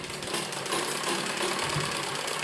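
A sewing machine stitches down the middle of a folded frock sleeve in a steady, continuous, close whirring run with no pauses.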